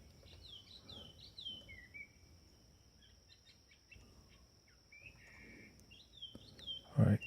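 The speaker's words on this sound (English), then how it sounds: "We're listening to bird sounds and calling it a banger." Small birds chirp and whistle in short, bright calls over a quiet, airy outdoor background with faint insect buzz, repeated in scattered bursts, with a brief louder knock near the end.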